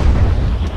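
A single ranging shot from a ship's cannon in Naval Action booms loud and close, a heavy low-pitched blast that fills the short moment and fades slightly at the end.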